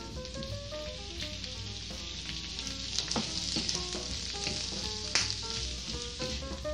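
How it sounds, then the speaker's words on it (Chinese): Mussels stir-fried with garlic in a hot wok, a loud steady sizzle with shell clatter and scraping as the pan is tossed, close and continuous, with no one talking. "就这样翻炒"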